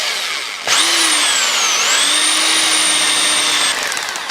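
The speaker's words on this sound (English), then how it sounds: "So you get the hammer drill going first." A hammer drill starts abruptly and whines steadily at high pitch for about three seconds, loud and close, drilling into tile, then winds down.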